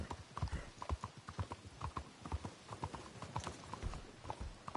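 Horse hooves clip-clop in a steady rhythmic gait within a video game, fairly close and continuous throughout, with a brief whinny-like touch and no talk over it.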